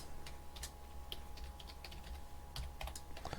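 Quiet clicking of a computer keyboard as a password is typed, short irregular bursts of light keystrokes with small pauses, heard faintly over a steady low room hum.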